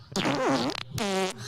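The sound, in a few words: fart sound effect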